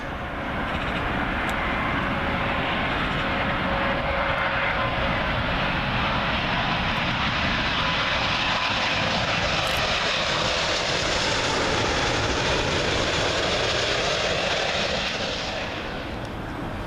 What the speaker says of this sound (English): Also coming in from Newark Liberty, British Airways 777 One World livery.